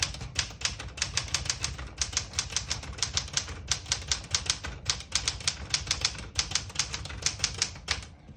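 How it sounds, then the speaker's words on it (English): Brisk typing on a 1973 Galaxie 12 vintage portable typewriter: rapid bursts of crisp key strikes in quick runs separated by short pauses, close and fairly loud, with no voices. "I was actually pretty surprised on how nice this types, and it sounds really good. It's not super loud."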